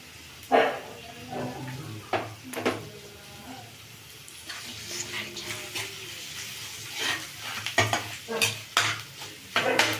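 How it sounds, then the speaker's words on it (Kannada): Potato pieces fry in a pan for a potato palya, with a soft steady sizzle under repeated scraping and clattering strokes of a spoon stirring against the metal, close and fairly quiet. "ಇದು ಆಲೂಗಡ್ಡೆ ಹಾಕೊಳ್ತಾ ಇದ್ದೀನಿ"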